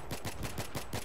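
Rapid automatic gunfire in Battlefield 3 Rush mode, a short, even burst of about six quick shots, moderately loud and alone without talk.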